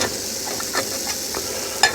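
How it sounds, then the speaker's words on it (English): A pot of water is boiling for Brussels sprouts at an outdoor camp breakfast, a close, steady bubbling and hiss with a few light clinks near the end. "Oh, we're boiling."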